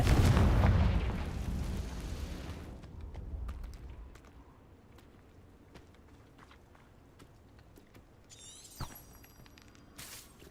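A Confringo blasting spell explodes in the Hogwarts Legacy video game: a loud, booming blast that decays over a few seconds into quiet, scattered debris and footsteps, then a sharp crack and a bright shimmering burst near the end.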